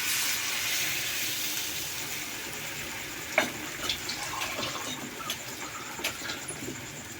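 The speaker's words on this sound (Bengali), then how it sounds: "আর পরিমাণ মতো জল দিয়ে দেব।" Water is poured into a pan of potatoes during cooking, a soft steady pouring and trickling stream heard close and faint, with a few small clinks toward the end.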